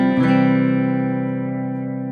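Artist AT73 Pink Paisley electric guitar on the neck pickup, middle position: one full strummed chord rings loud and warm, then sustains and gradually fades over about two seconds, alone.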